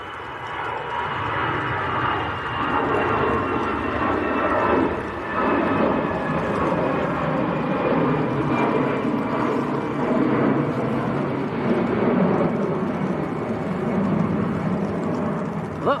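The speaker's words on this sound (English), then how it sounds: "That was EasyJet to Belfast. Airbus A320" An EasyJet Airbus A320 bound for Belfast from Manchester Airport rumbles past in a sustained, moderately loud jet roar with a thin engine whine, fading slightly near the end.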